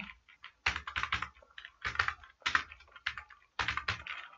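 Hindi text is typed on a computer keyboard, with close, crisp key clicks coming in quick bursts and short pauses between them, and no voices.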